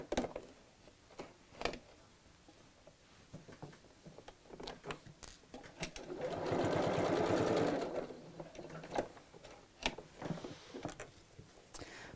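A sewing machine runs one sustained stitching burst on a double zip pocket bag, framed by scattered clicks and handling taps before and after.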